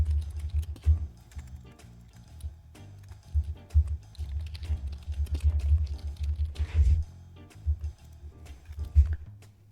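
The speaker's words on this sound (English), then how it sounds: "a bit tired of typing" Steady typing on a computer keyboard during a late-night work session, with irregular bursts of close, soft key clatter and short pauses, heard alone without talk.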